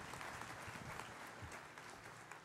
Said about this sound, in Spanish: Damos un aplauso al Señor por la vida de él